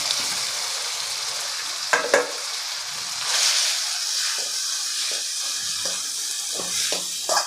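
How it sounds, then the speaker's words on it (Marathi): Steamed sabudana is stirred in hot oil for sabudana khichdi, making a steady hissing sizzle close up, with a few spoon scrapes and clicks along the way. "हा जो वाफवलेला साबुदाणा आहे तो आपण या तेलामध्ये घालून घेणार आहे आणि छान असं आपल्याला साबुदाणा आधी परतून घ्यायचा आहे"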